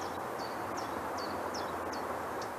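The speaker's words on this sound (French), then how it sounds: "Voilà le loriot qui chante, on l'entend." A distant Eurasian golden oriole sings a faint series of short, repeated whistled phrases at a steady rhythm over a constant background hiss.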